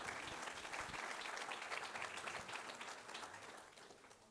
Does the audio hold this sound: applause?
yes